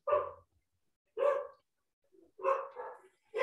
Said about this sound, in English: Do you guys hear my dogs?